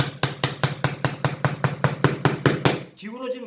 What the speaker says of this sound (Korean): 기울어졌으면 이거를 같은 각도로 치는 겁니다